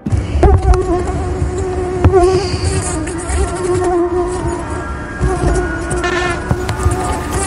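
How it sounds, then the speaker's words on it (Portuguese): Insect buzzing close by, matching a mosquito, droning steadily for several seconds with wavering whine tones and some thumps and clatter, no voices. "Tu pode matar um mosquito"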